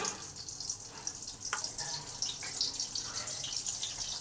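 Battered pieces of fish frying in hot oil with a steady, close hiss and sizzle, a few brief spattering pops near the middle, and no talk.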